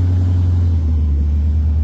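An Audi A8 D2 with a 4.2-litre engine runs close by with a loud, even, deep hum and rumble that holds steady throughout, and no one speaks over it.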